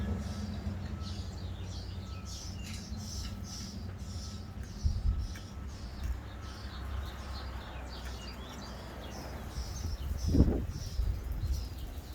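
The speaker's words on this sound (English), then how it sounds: "I got the baby birds. They're in my attic screaming at me." Many baby birds in an attic chirp and cheep in quick repeated high calls, faint and somewhat distant, over a low background rumble with a couple of brief thumps.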